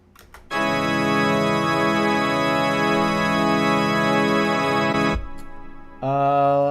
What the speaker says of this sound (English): And I think I want to use the resolving chord.